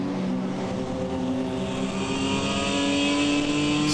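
BMW E30 and open class race cars at Manfeild circuit in dry conditions, engines roaring loud and sustained with revs rising steadily as the pack runs together.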